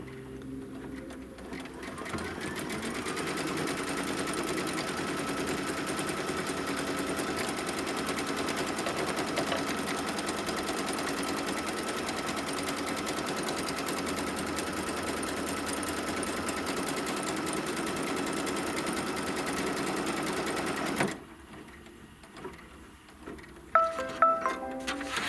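An embroidery sewing machine runs a steady tack-down stitch around a Kimberbell quilt block, a continuous whirring hum with fine rapid ticking that goes on for about twenty seconds, then stops abruptly, leaving faint handling noises.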